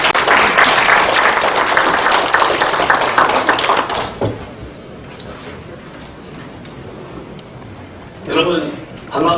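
Loud, dense applause from a crowd at a Korean farmers' and fishers' political rally fills the first four seconds, then fades to quiet room noise before a brief burst of clapping returns.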